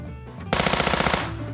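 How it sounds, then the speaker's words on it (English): Rapid machine-gun fire in the visual novel Nukitashi, a dense burst of quick shots loud and close that fades to a ringing tail. "A hell gunfire whizzes by overhead."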